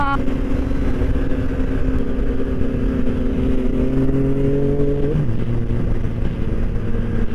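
A Yamaha MT-09 motorcycle engine revs loudly and steadily up close, its pitch climbing and then dropping to a lower drone.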